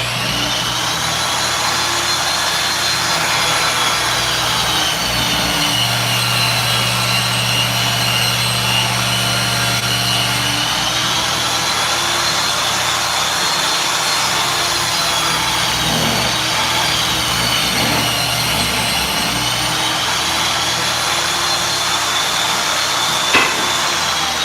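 A table saw runs continuously as wood is ripped by hand along a marked line during a living room remodel, a loud steady whine with a few sharper bursts near the end.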